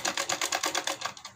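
Sewing machine running a quick burst of rapid, even stitches along a heart-shaped blouse neckline, close and steady, alone without talk.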